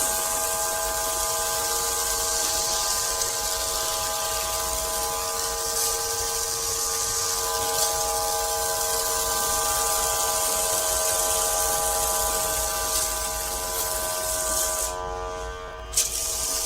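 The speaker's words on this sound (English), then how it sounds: "I'll spray it completely empty here." An electric foam sprayer runs steadily as it sprays until empty, a constant motorized buzz with a whining pump tone, sputtering and briefly cutting out near the end as the tank runs dry.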